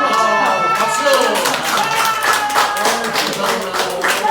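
A church middle and high school youth group applauds during a worship service, producing dense, steady clapping from many hands close by that lasts the whole stretch, with some voices mixed in.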